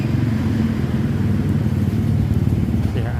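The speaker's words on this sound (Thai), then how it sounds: "นี้เครื่องติดแล้วนะครับ แล้วก็ เครื่องเงียบมากนะครับ" A 2023 Scoopy scooter engine, just started, idles steadily and fairly quietly nearby, a low even putter with a faint voice in the background.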